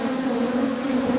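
Bees buzzing loudly and continuously at a beehive, a dense, steady drone close to the listener.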